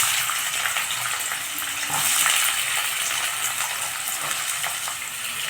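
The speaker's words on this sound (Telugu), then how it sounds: "ఇప్పుడు సన్నగా తరిగిన పెట్టుకున్న ఉల్లిపాయలు వేసుకుందామండి" Thinly sliced onions frying in oil in a kadai make a dense, steady hiss that swells briefly partway through, with no stirring strokes standing out.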